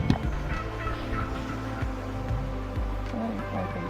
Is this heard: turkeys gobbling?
yes